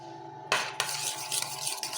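Potato salad mixed with tahina and salt in a bowl: close scraping and clinking of a utensil against the dish, with a few sharper knocks over a steady wet stirring sound.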